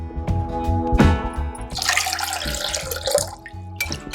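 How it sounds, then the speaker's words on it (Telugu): Water poured into a cup or vessel while making Karachi halwa, a close splashing gush with bubbling and clinking, loud and alone without speech. "మళ్ళీ తర్వాత ఇంకొక కప్పు వాటర్ వేసుకుందాం"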